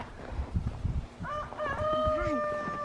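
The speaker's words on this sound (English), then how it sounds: "The roosters are learning how to crow." Young roosters attempt to crow outdoors in the snow, a couple of wavering, unfinished cock-a-doodle calls rising near and loud after some brief rustling and crunching.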